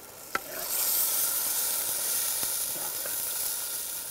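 Garlic and ginger sizzle in hot oil as Kadaknath chicken fries in a tribal cooking setting, a steady bright hiss broken by a few sharp clinks and stirring scrapes.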